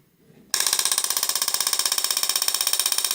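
An Enraf Nonius 811 shockwave therapy machine starts up abruptly and runs loud at high intensity, about 83 decibels, with a rapid, even mechanical clicking pulse, a harsh buzzing rattle that continues steadily.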